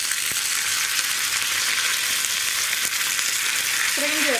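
Cashews, dried red chillies and curry leaves fry in hot oil with a steady, close sizzle throughout, a light stir or clatter near the end, and no talking.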